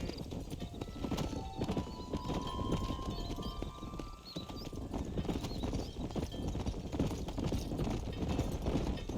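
Rhythmic hoofbeats clop steadily throughout in the video game Red Dead Redemption, with a horse whinnying partway through over a continuous ambient bed.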